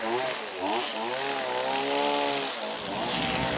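A portable harvesting machine for picking coffee and other fruit runs at close range, a loud, steady buzzing engine drone with a rising and falling pitch.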